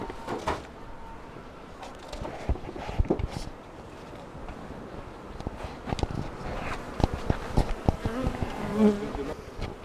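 Honeybees in a beehive produce a dense, steady buzzing hum close by, with scattered clicks and light knocks throughout.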